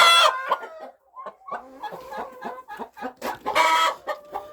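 A hen that has just laid an egg clucks loudly and repeatedly at close range, a rapid series of squawking cackles with short gaps, rising into a louder burst near the end.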